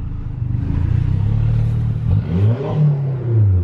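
A diesel Vauxhall Corsa at a car event gives a loud, close engine drone with low rumbling that rises and falls in pitch as it revs and drives off.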